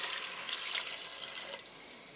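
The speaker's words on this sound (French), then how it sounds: "Maintenant je vais verser mon bouillon." Broth poured into a Cookeo electric multicooker over duck paupiettes, a steady splashing liquid stream that eases off toward the end, close and moderately loud, with no talking.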